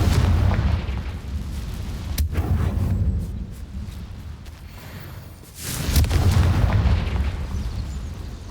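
A Confringo fire spell explodes in Hogwarts Legacy, giving a few heavy booming bursts over a dense, rumbling battle din. A sharp blast comes early and a louder surge follows near the end.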